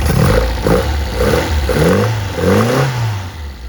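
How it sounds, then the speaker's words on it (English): A Jensen Healey engine revs several times in quick succession, each blip rising and falling in pitch, loud and close with a rumbling roar throughout. "we'll go ahead and rev the engine for you real quick."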